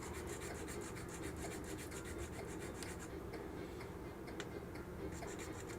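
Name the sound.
shaving down a carburetor mount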